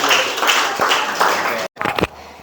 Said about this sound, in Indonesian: aku coba berikan tepuk tangan dulu, semua hadir.